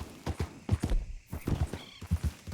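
Horse hooves clip-clop in a quick, uneven rhythm in Red Dead Redemption 2, close and clear, with a short whinny partway through.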